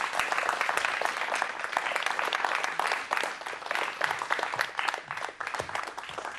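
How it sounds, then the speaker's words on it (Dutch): Sustained applause from an audience, dense and steady clapping that carries on without a break and fades slightly toward the end. "Een applaus voor Jill Wanders en Dennis Bijleveld."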